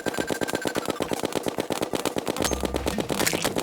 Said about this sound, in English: I was waiting for them to get above me, and then they get hit by snowball cannons.